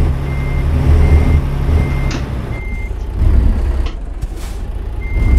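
A truck backing up with a trailer in American Truck Simulator, steady reversing beeps over a loud low engine rumble, with a hiss of air brakes partway through.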